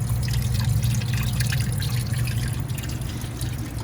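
Water runs from a freshly unclogged walk-in cooler drain line, a steady close trickle and splash that continues without pause and fades slightly toward the end.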